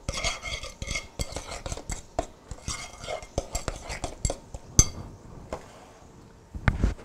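A spoon stirs vanilla into a mixture, scraping and clinking against the bowl in quick, irregular bursts, close and fairly loud, with a few brief pauses between strokes.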